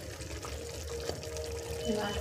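More water pours into a cooking pan, a short continuous splashing trickle heard close up, with a voice speaking faintly over it.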